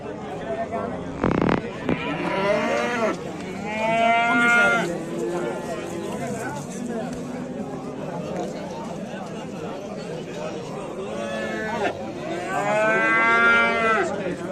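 Cattle, young stock around six to seven months old, moo loudly at a livestock market in several long, drawn-out calls, with people chattering nearby between the calls.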